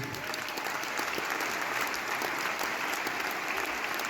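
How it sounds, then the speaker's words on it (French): Sustained, dense applause from a concert crowd in Besançon greeting a production assistant introduced from the stage, a steady wash of many hands clapping at even loudness from start to end. "Et puis mon assistant de prod, Arnaud, qu'on peut applaudir très très fort aussi."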